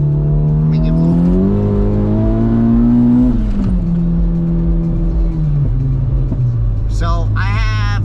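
Honda Civic Type R FK8 fitted with TR3 cams pulling hard under acceleration, engine tone climbing steadily then dropping after a shift, with a voice talking over the drive near the end.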